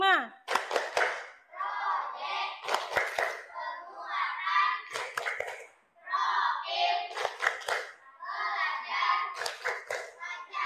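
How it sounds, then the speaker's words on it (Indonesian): Schoolchildren in a classroom do a rhythmic clapping game, sharp claps in repeating grouped bursts alternating with their chanting voices, close and lively throughout. "Mari kita lakukan bersama-sama tepuk P5."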